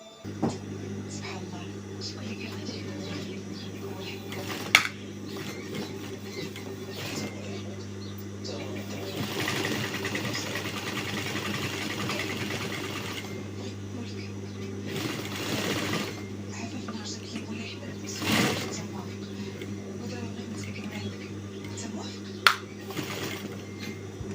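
Sewing machine stitching a djellaba, a steady close mechanical hum with faint ticks and a few louder knocks running throughout, with someone talking now and then over it.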